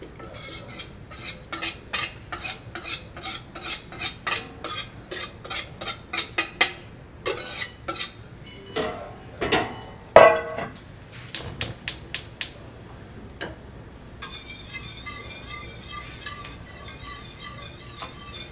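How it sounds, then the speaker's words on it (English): Strawberry cream mixture whisked in a pan on the stove, a rapid run of sharp metallic clicks and scrapes of the whisk against the pan, loud and close, fading to a quieter steady bubbling texture near the end. "you're going to whisk this in the pan so that it stays a smooth cream"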